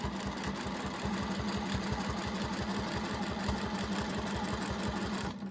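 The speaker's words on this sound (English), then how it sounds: "Take some little stitches to start out to lock them in place." Sewing machine running steadily at close range, taking small locking stitches on a fabric practice piece with a fast, even mechanical chatter throughout.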